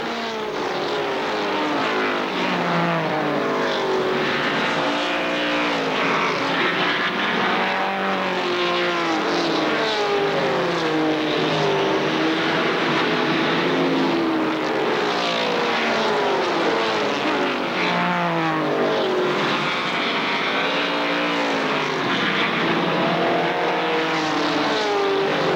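ARCA stock race cars lap Kil Kare Speedway in 1995, threading through lapped traffic. Loud, continuous engine roar fills the whole stretch, with overlapping pitches rising and falling as cars pass close by.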